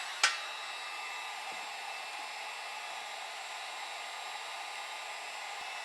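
Heat gun or hair dryer blowing hot air over a polymer sheet being shaped for cosplay, a steady close whooshing hiss after a brief click at the start, running alone without talk.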